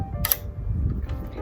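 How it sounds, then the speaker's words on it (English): A 1920s-era Kodak camera's shutter gives a quick, faint mechanical click as it opens and closes, close by in a quiet room, followed by softer handling ticks. "It's got a shutter here, and that opens and closes the shutter"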